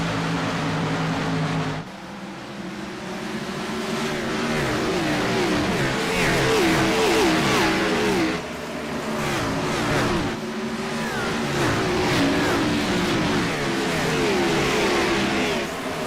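Race cars in the video game iRacing launch at Bristol's half-mile oval, a pack of engines revving hard and roaring in a loud, sustained drone that shifts pitch through gear changes, with brief dips as cars pass.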